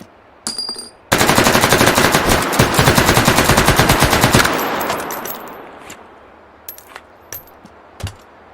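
AP incendiary tracer rounds fired in a video game, a loud rapid burst of machine-gun fire lasting a few seconds, then spent casings tinkling and scattered clicks as it fades.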